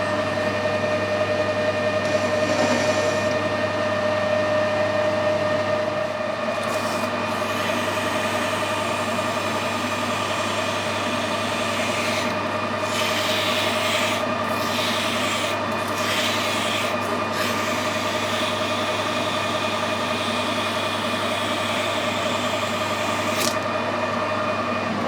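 Steady machining on a mini lathe as a chamfer is cut on the two shoulders of a drive shaft, giving a continuous rubbing, rasping hum with a constant motor tone and a few brief scraping bursts midway, with no talking.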